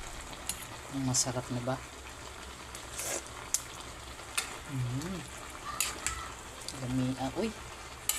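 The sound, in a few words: food being stirred while frying in a pan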